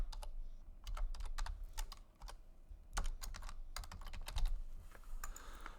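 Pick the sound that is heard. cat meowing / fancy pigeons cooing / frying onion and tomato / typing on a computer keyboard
typing on a computer keyboard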